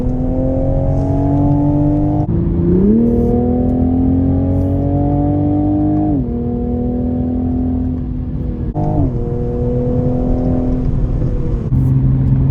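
A 2021 Toyota Supra driven out for a photo shoot, its engine loud and close with a steady drone that climbs in pitch through several gear changes, each shift marked by a brief dip.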